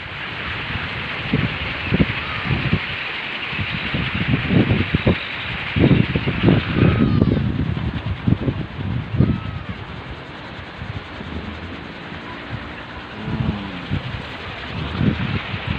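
Gusty wind blowing outdoors in a village, buffeting the microphone in irregular loud bursts with rustling, then easing to a softer steady hiss.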